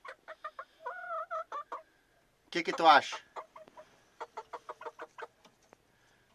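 A rooster and hens in a backyard flock during a harsh winter cluck in short repeated bursts, with a louder squawking call in the middle; someone speaks briefly between the calls.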